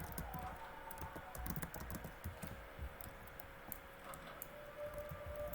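Rapid clicking keystrokes on a computer keyboard while playing a Roblox game, close and fairly quiet, in irregular bursts without any talk.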